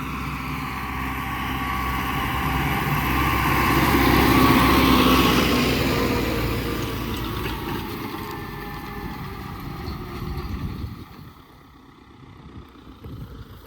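MTZ-892 tractor pulling a PD-2.5 Veles Agro disc harrow across stubble and straw, a steady broadband engine drone with rumbling, swelling louder in the middle and fading toward the end.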